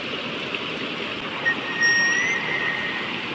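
Steady rushing flood water flowing over a road nearby, a constant broad wash of sound with faint high tones passing briefly over it, in a Krishna River island village in Andhra Pradesh.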